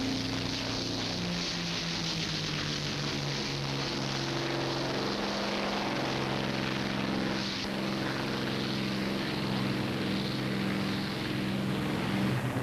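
P-51 Mustang propeller fighter planes take off, their engines a loud, steady droning roar with shifting harmonic tones throughout, no voices.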